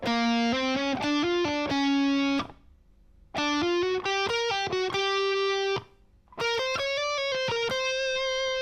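A distorted electric guitar plays rolling legato phrases from a solo in quick runs of notes, broken by two short pauses, loud and sustained.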